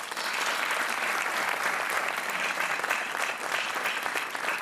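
A studio audience on a Portuguese TV game show applauds continuously, a dense and even wash of clapping with no talk over it.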